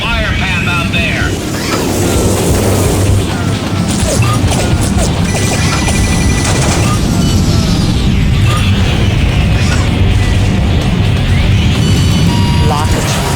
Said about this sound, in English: Cruise missiles are away.